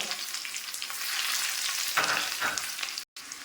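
Chopped shallots with mustard seeds sizzle steadily in hot coconut oil, a dense close crackle with a few brief stirring swells and a short break near the end; no one speaks.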